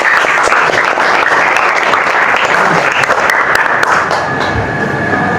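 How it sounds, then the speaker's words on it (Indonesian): Loud, dense applause from an audience of students in a classroom or lecture setting, continuous clapping sustained throughout with no speech over it. "Tepuk tangan untuk Farhan."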